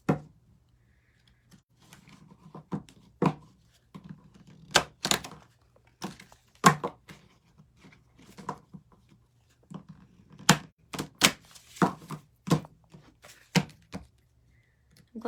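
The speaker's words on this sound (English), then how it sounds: "So I'm going to shuffle these cards again." Oracle cards shuffled by hand in short riffling bursts and soft taps, irregular and close, separated by near silence.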